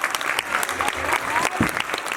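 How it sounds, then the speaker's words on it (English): Audience at a graduation ceremony applauding a standing band section, steady mid-distance clapping over the full stretch with faint voices mixed in. "I would like to just ask that each section of the band please stand and receive their applause."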